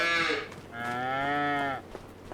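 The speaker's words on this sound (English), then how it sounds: "check on the cows, make sure they've got food" Cattle mooing in the farming game Farming Simulator 25, two long, loud, close bellowing moos, the second lasting about a second, with no talk.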